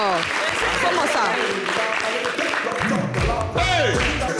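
Studio audience on an Ivorian TV show applauds steadily for the first gold record in Ivorian rap, loud and close, with shouts and voices over the clapping.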